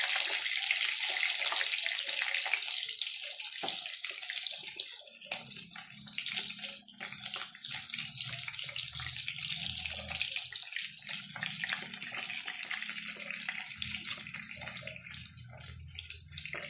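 Kitchen sink washing-up with the tap running in a steady rushing stream, as dishes and utensils are rinsed under it, with low thumps and clatter of handling. Nobody talks.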